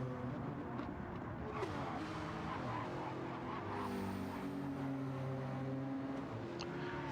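Front-engine rear-drive race cars in a racing video game braking hard into a double chicane, engines droning and shifting pitch steadily across the whole stretch with no talking.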